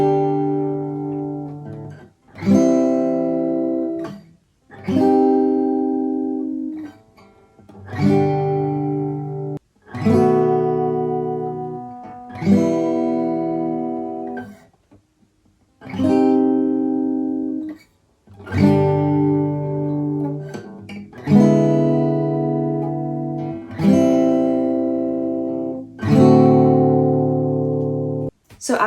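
Slow acoustic guitar strums through the chords of a song, about a dozen full ringing chords spaced evenly, each decaying before the next, close and alone.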